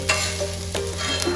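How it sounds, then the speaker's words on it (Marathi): Tawa pulao sizzles steadily on a hot griddle while a spatula scrapes and stirs it in a few distinct strokes, close and continuous with no voices. "हा कसा उत्कृष्ट दर्जाचा तवा पुलाव बनवत आहे"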